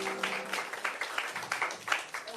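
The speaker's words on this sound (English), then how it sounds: "Let's give our guests a round of applause" Audience applause for the guests at the close of a community talk show, light and fairly quiet, with scattered claps pulsing steadily through the whole moment.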